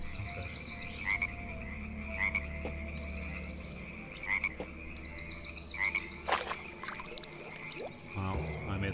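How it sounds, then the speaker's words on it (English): A frog croaks repeatedly in the adventure game Vampire Legends: The True Story of Kisilova, short rasping calls recurring every second or two over a low ambient drone, with faint splashy clicks near the end. "I made the frog jump in the water."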